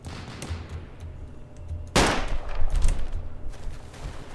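Gunfire from an STG-44 rifle in the Roblox game Unit 1968, with a loud sharp burst near the middle followed by more shots and rattling through the rest, over low game noise.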